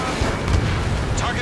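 A missile launch and explosion in Ace Combat 7 give a dense, continuous booming rumble that swells briefly, with voices talking over it.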